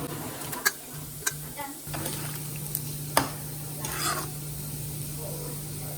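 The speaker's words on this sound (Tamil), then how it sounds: "கிழங்கு உடஞ்சிடாத மாதிரி கிண்டணும்" Soft stirring and scraping of elephant foot yam pieces in a pot of tamarind curry at a low simmer, punctuated by a few sharp clicks of a utensil against the side.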